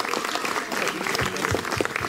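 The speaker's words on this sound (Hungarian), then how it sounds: "nagy tapsal köszöntsük." Audience clapping in welcome at an outdoor Hungarian village day event in Tiszavég, a steady crowd applause filling the whole stretch at moderate distance.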